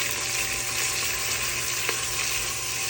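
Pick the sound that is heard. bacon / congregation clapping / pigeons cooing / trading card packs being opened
bacon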